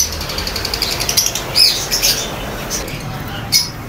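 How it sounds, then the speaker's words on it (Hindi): A pair of green ringneck parakeets squawks sharply and repeatedly at close range amid bursts of wing flapping, with market background noise underneath. "ग्रीन रिंग नेक, ये ग्रीन रिंग नेक का फर्स्ट टाइम ब्रीड वाला पेयर अवेलेबल है"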